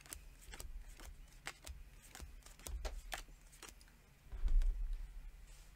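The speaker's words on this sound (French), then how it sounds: "Je vais distribuer de nouveau cette carte." Playing cards dealt onto a table during a Papillon card game, a series of quick crisp snaps and flicks with a louder burst of handling near the end, close and clear with no talking.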